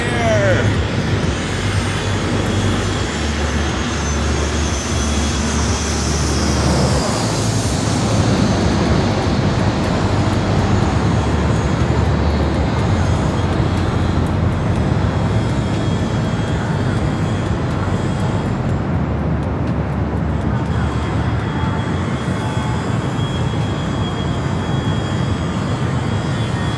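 Airliner taxiing out for takeoff at San Diego airport, a loud continuous engine roar and whine heard from nearby, steady throughout with broadband rumble and no talk.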